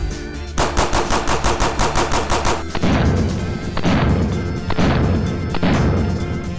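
Compensated Glock pistol firing a rapid string of about ten sharp, evenly spaced shots, followed by louder, rougher bursts of gunfire with some echo, close by and with no talking.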